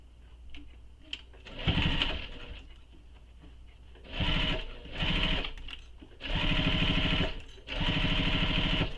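Sewing machine basting piping in place on a tote bag, running in several stitching bursts of a few seconds each with short pauses between, close and steady.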